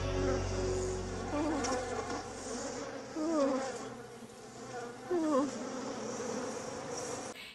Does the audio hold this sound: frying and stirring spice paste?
no